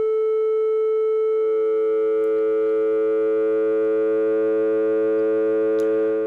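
A Korg Volca Modular synthesizer holds a steady tone that thickens into layered octave harmonics as the oscillator folds back on itself, buzzing and continuous, with a faint click near the end.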